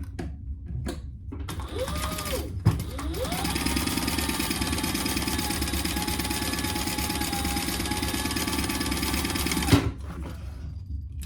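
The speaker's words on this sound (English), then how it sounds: "then we're going to top stitch as well" A sewing machine runs a long, steady burst of top stitching on a crossbody bag. Its whirring motor and rapid needle clatter are heard up close after a few short starts and before a clunk at the end.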